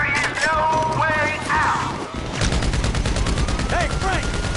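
Rapid video game gunfire crackles in dense, continuous bursts through a loud, chaotic firefight, with shouted voices and a whistling tone over the noise.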